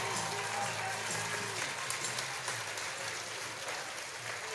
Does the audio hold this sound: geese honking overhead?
no